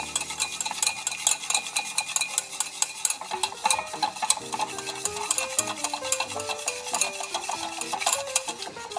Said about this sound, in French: Il nous reste un petit peu de beurre. Voilà, et on mélange.